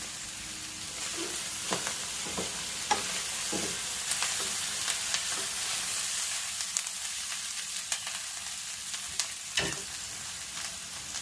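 Sisig being stirred together with chili in a hot sizzling pan, a steady frying hiss with scattered scraping clicks of a utensil against the metal, close and continuous with no talk.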